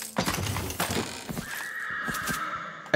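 A horse whinnies in the video game Tiny Tina's Wonderlands, a clear neigh running beneath busy game sounds, with a sustained tonal call in the second half amid scattered clatter.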